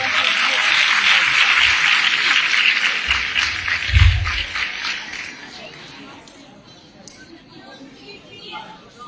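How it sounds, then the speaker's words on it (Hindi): Audience at a gathering in Lahore against religious extremism gives a loud, full round of applause that fades out after about six seconds, with voices and crowd murmur continuing beneath and after it. "मैं चाहूंगा कि इनके लिए आप भरपूर तालियां बजाएं।"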